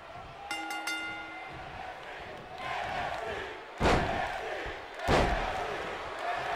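A wrestling crowd in an arena in Glendale, Arizona roars steadily, with two sharp, loud slam-like impacts standing out partway through and a brief tonal blare near the start.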